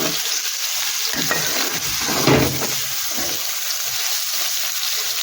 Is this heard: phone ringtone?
no